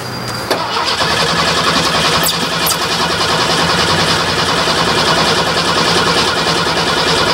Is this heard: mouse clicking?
no